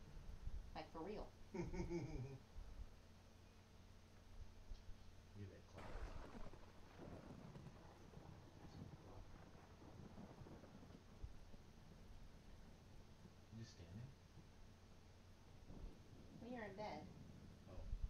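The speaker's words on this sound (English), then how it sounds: "And it was thundering here." Distant rolling thunder with steady rain outdoors, a low rumble swelling and fading beneath frequent nervous talking from people nearby.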